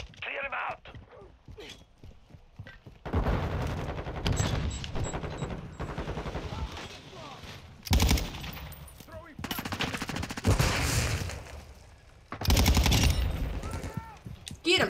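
Gunfire in a Call of Duty match: rapid automatic bursts and explosive shots come in loud clusters, with shouting players talking over the chaotic battle noise.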